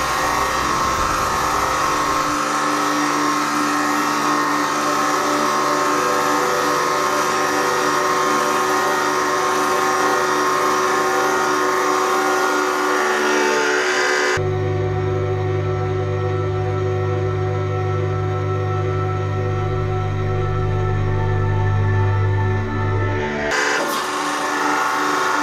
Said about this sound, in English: I have this aluminium tinfoil ball. Let's see what happens when we crush it.